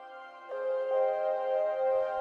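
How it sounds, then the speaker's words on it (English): Layered synth drone pads with an arpeggiated line in a lofi production, stereo-widened and sustained, tones shifting at about half a second and again near one second, heard alone at moderate level. "So all the drony kind of stuff together sounds like this."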